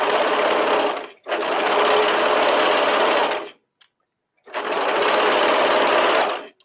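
A sewing machine stitches the neckline of a knit top in three loud, close bursts of steady mechanical whirring, separated by brief silent pauses.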